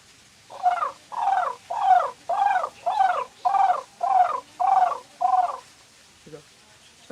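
A voice imitates the call of a white-breasted waterhen, a wild forest bird, in eight loud, evenly spaced repeated hoots delivered in a steady rhythm, followed by a brief faint pause and a soft trailing sound.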